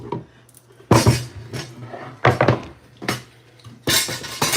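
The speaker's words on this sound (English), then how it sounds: "I'm going to slice the tomatoes and the onions" Knife cutting tomatoes and onions on a board while making a vegan sub, four crisp chopping hits spaced about a second apart, close and clear with no talk.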